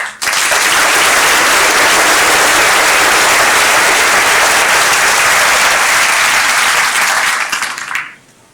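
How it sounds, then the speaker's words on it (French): A hall audience at a town mayor's New Year address applauds local business leaders, loud, dense and sustained clapping that holds steady before stopping abruptly near the end. "On peut vraiment tous les applaudir."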